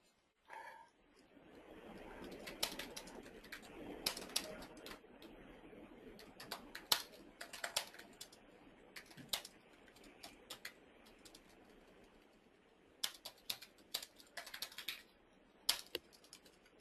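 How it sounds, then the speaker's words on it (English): Keys clatter on a computer keyboard while a letter is typed, a close run of irregular clicks in bursts with short pauses. "I can type my letter in here"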